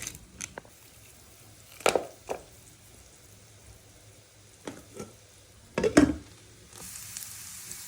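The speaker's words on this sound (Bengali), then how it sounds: "এই যে রসুনটা ভাজছে এখানে" Garlic frying in oil for a mushroom soup: a faint low sizzle underneath, broken by several sharp clatters and scrapes of a utensil stirring the pan, quiet between bursts.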